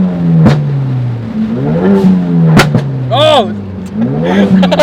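A Ford Focus RS accelerates hard, its engine revving loudly and close by with sharp exhaust pops and crackles cutting through, while a person exclaims over the noise.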